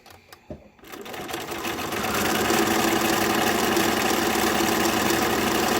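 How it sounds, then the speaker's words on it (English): A sewing machine stitching fabric masks runs steadily and loudly with a fast mechanical whir, starting after a brief quiet moment with a few light clicks. "everything is ready to go, and all we have to do is sew"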